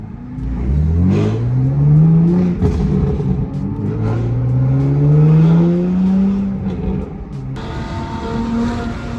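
A stock BMW M8 sports car's engine rises and falls through revs with deep, popping exhaust burbles, loud and close, with no talking.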